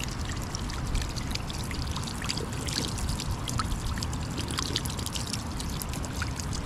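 Steady splashing trickle of water pouring from a drinking fountain into a basin at Bonneville Fish Hatchery, Oregon, continuous and close, with a faint voice or two in the background.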